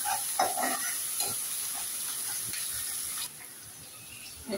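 Chopped onions frying in a pan, stirred with a few spatula scrapes over a constant sizzle, close and moderately loud, the sizzle dropping slightly toward the end.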